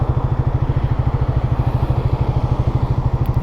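A Triumph Speed 400 motorcycle engine while riding, a loud steady rapid thumping pulse with an even rhythm, accompanied by a broad wash of wind and road noise.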